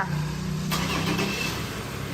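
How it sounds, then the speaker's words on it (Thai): A Ford Ranger pickup engine cranks and catches with a brief starter whir, settling into a steady close idle over about two seconds. "สตาร์รถค่ะ"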